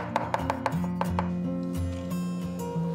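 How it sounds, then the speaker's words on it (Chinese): Knife chopping a small pinch of preserved winter vegetable (dongcai) finely on a board, a quick series of sharp taps that speeds into a fairly steady rhythm, close and clear, with a faint tonal hum underneath. "我们给它剁碎。"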